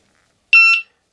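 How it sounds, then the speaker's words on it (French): Two short, bright electronic beeps in quick succession from a Begode Master electric unicycle as its kickstand is lowered, loud and close, with silence before and after. "les bips de la mise aux béquilles"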